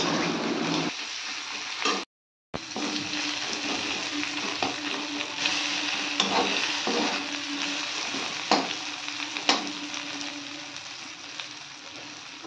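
Curry leaves frying in oil for arhar dal, a close, steady sizzle with scattered crackles and stirring clicks, briefly cut to silence near the start before resuming.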